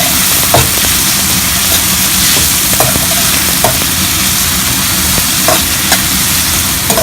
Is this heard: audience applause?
no